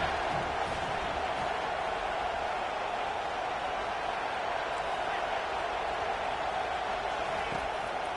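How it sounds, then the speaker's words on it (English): A stadium crowd in an American football video game roars steadily on a third-down defensive stand, a dense, unbroken wash of cheering noise holding at an even level throughout. "Decibels rising as the crowd gets behind this defense on third down"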